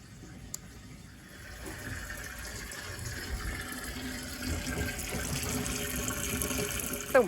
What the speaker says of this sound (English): Malcolm's just filling up our water right now.